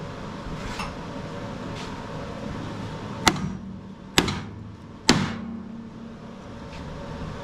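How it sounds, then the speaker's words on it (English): Three sharp metallic clangs of a big hammer striking a Toro 22-inch Recycler lawn mower, bent from hitting a rock, roughly a second apart, each ringing briefly over a low background hum. "I'm gonna hit it with a big old hammer"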